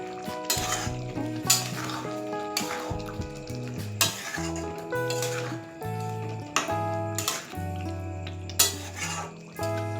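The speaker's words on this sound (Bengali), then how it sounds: "এবার পনিরগুলোকে মিশিয়ে নেব।" Fried paneer is stirred into a Bengali-style chana masala gravy, a spoon scraping and clinking against the pot in repeated strokes over a steady sizzle.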